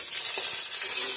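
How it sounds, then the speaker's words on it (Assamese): Dried red chillies frying in a pan for greens, a soft steady sizzle with faint crackles over a brief moment, close and fairly quiet. "শাকৰ কাৰণে শুকান জলকীয়া ভাজি আছোঁ"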